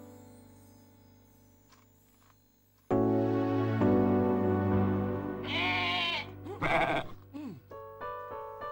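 Sheep bleat in the PS2 game Dog's Life, several wavering cries starting around midway and rising clearly over a steady musical game soundtrack that jumps louder partway through.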